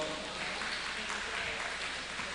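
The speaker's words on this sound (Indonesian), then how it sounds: "Beri tepuk tangan dong" Faint, steady clapping from an audience at a school presentation event forms an even hiss of many hands throughout.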